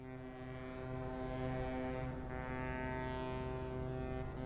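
A deep, loud ship horn in the video game Ship Blocks blasts continuously, a rich steady drone sounding alone for the whole stretch.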